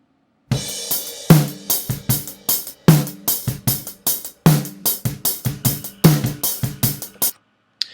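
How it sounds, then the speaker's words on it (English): A dry, dark, poorly defined snare drum hit repeatedly in a steady groove, with cymbal wash from hi-hat bleed between strikes; no voices. "So here's the sound of the original snare."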